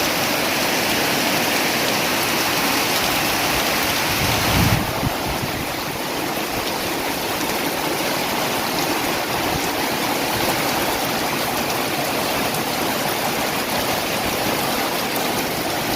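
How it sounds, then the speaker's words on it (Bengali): Heavy rain pours down during a storm, a dense, loud, unbroken roar of falling water with no speech. "অনেক বৃষ্টি, ঝড় বৃষ্টি হচ্ছে।"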